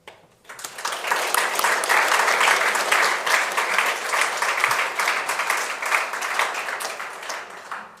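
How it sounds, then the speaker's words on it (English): Sustained applause from a press conference audience at the FEI Eventing World Championship in Aachen, a dense, steady wash of clapping that swells in quickly and holds at an even level throughout. "perhaps you'd like to join me in one more round of applause for our amazing riders and horses"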